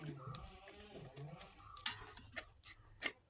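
Coriander powder and chili powder sizzle in hot oil for a Kerala-style clam meat roast, with soft stirring scrapes and a few sharper clicks against the pan, fairly quiet and close, no talking.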